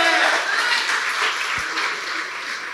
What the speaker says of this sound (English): Round of applause to our chef.